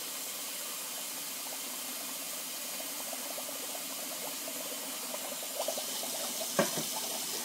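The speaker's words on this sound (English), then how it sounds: "This is about as hot a water as you're going to get out of your tap." Hot water streams steadily from a kitchen tap into a sink, a constant hiss of running water with a few faint clinks and one sharp knock near the end.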